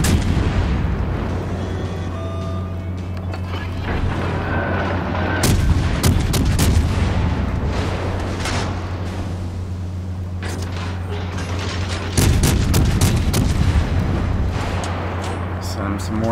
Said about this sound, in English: Send him some warning shots.